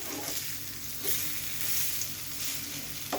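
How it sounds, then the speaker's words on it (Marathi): Fish frying in oil in a home-kitchen pan, a steady bright sizzle with slight surges as the pieces are turned, close and loud without speech. "आपण आता ते टर्न करून घेऊया. हे बघा, मच्छी छान शिजली एका बाजूने."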